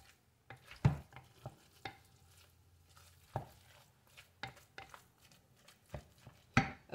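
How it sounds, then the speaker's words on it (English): Sloppy joe mixture stirred in a crock pot: irregular scraping and clinking of a utensil against the pot, with soft wet knocks and a few sharper taps, close and fairly quiet, no talking. "Give it a good stir."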